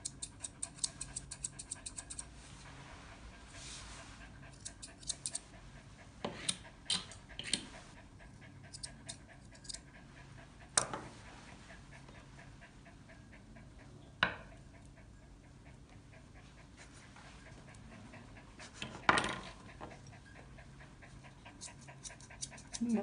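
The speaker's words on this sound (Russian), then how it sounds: "На фоне музыкального сопровождения храпа Масяня." A Yorkshire terrier breathes noisily and snores faintly in steady rhythm while being groomed, with scattered clicks and scrapes from the grooming over a quiet background.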